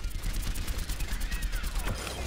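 Soldier 76's rapid gunfire with the tactical visor active in the Overwatch video game, a dense, continuous stream of loud automatic shots with no break.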